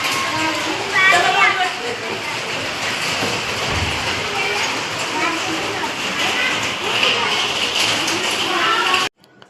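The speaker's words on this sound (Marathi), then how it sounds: "आमच्या कॉलनीत पडतोय पाऊस" Heavy rain pours steadily in a dense roar over a residential colony in Nashik, with people talking and calling out over it nearby.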